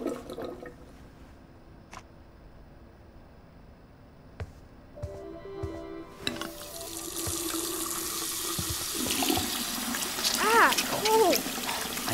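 Tap water splashes into a sink for hand washing, beginning about halfway through as a loud, steady rush that continues to the end, while people talk over it.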